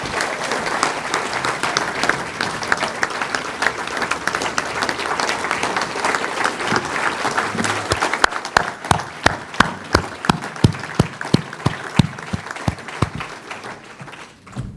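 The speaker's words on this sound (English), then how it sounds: "Let's have one final round of applause for the inductees of the class of 2019." Sustained crowd applause for inductees at a class of 2019 induction ceremony: dense clapping for about eight seconds, then thinning into distinct, scattered loud claps until the end.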